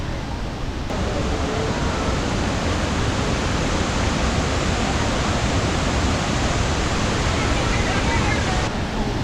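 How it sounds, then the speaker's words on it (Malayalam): Lakkam waterfall roars with a dense, continuous rush of falling water, loud and unbroken throughout with no other sounds standing out. "അപ്പോൾ ഇതാണ് ലക്കം വാട്ടർഫാളിൻ്റെ വ്യൂ എന്ന് പറയുന്നത്"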